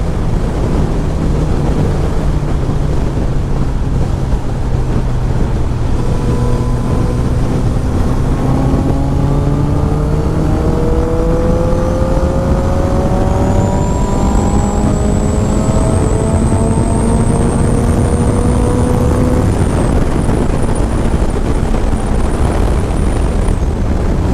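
A Honda CBR 650R motorcycle accelerating above 4000 RPM, its engine note climbing through rising gear-by-gear whines under loud, constant wind blast.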